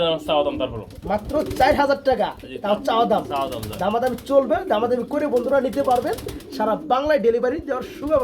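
Many pigeons coo continuously nearby at a caged bird market, overlapping rolling calls forming a dense murmur, with occasional flutters.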